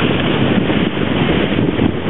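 Offshore breeze rushes over the microphone aboard a sailing boat on a flat sea, a loud, steady wind roar throughout the short stretch with no voices.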